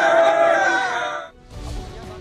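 Crowd of party workers shouting slogans and cheering as arrested politician Sharjeel Memon is brought from jail to the Sindh Assembly in an armoured vehicle; a loud, dense mass of voices drops away midway, then rises again rougher and more distant.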